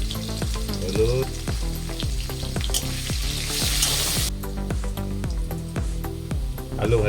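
Cut potatoes sizzle and crackle in hot oil in a pan, with a steady fry noise broken by repeated sharp stir clicks that grow brighter partway through.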